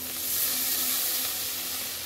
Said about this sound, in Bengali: এবার এইটাকে আমি ভালো করে নেড়ে চেড়ে কষতে থাকবো যতক্ষণ না কাঁচা গন্ধটা যায়